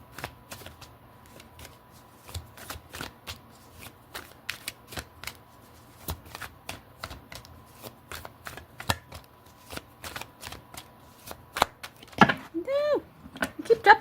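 Tarot cards being shuffled by hand: a steady run of crisp, close riffling snaps and soft slaps, growing louder and busier near the end with a brief fluttering burst.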